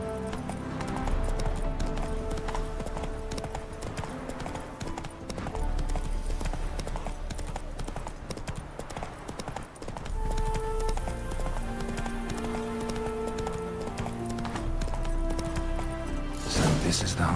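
A horse gallops in The Witcher 3, its hooves keeping a steady clip-clop rhythm beneath music and ambient game sound, with some talk in the mix and a sharp burst near the end.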